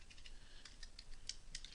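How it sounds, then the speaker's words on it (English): Fingers tapping a computer keyboard at moderate speed, giving a faint, irregular run of soft clicks against a quiet room background. "and start typing my story."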